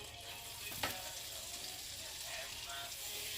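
Butter and flour roux cooking in a pan for beef enchiladas, a faint steady sizzle with a brief scraping click near the start.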